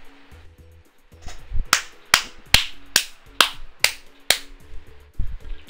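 Several sharp hand claps in a steady rhythm, about eight in a row, loud and close, set against quiet background hum during a stream of the pool game PoolNation FX.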